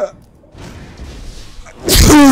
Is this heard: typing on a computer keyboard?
no